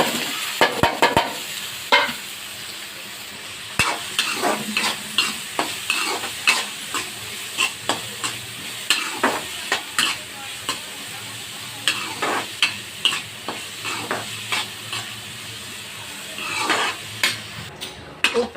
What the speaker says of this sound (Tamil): அதுக்கு தேவையான வெங்காயம் எண்ணெய் ஊற்றி வச்சு எண்ணெய் காய்ச்சி